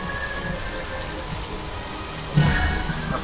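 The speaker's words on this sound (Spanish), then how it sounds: "Pero está con lluvia." Steady rain hisses in the F1 Race Stars racing game, a constant wash of drops on surfaces, with a sudden louder burst near the end.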